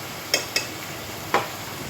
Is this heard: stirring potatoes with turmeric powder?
yes